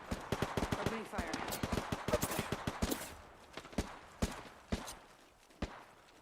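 Rapid automatic gunfire in a video game, with a dense burst over the first few seconds thinning into scattered single shots, while a voice speaks briefly.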